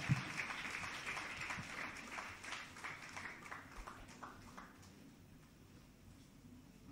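A church congregation applauds during a service, a soft, steady patter of many hands clapping, heard from a distance and gradually fading.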